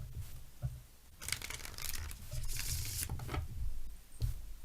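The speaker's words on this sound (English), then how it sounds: "I always shuffle though a little on camera" Tarot cards shuffled by hand make a steady, close papery riffling and crinkling that swells into dense bursts, with no voices over it.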